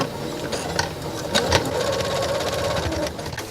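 A sewing machine top stitches a snap wallet at a lengthened 3.5 stitch setting, giving a steady, close mechanical whir with a fast needle rhythm throughout and no talking.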